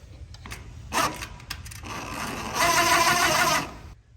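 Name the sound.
driving a heavy stainless screw into pontoon deck trim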